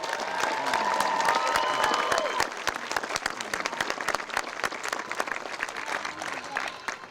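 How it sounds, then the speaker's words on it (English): Audience applause for graduates at the Dover High School graduation ceremony, a steady, full round of clapping from a large crowd that rings out briefly and holds strong for about seven seconds, with faint voices mixed in. "how about we give our graduates another round of applause"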